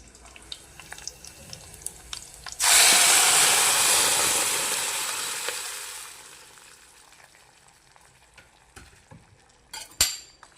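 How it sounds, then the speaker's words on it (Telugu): Cooked dal is poured into hot tempering with a sudden loud sizzle that slowly fades over several seconds, surrounded by light clinks and scrapes of a spoon stirring the pot. "ఉప్పు వేసుకొని ఒకసారి ఇలా చక్కగా తిప్పుకున్నాక తాలింపులో పప్పుని గుమ్మరించుకోవాలి"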